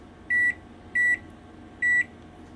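An Amazon Basics microwave gives three short, clear electronic beeps as its buttons are pressed, evenly spaced over low room hum, with no talking.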